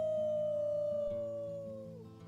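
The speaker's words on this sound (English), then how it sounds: "Let's start with our team howl." Characters in the Life is Strange 2 video game doing a team wolf howl: a single loud, long sustained howl that holds steady and then slides down at the end, over layered low tones.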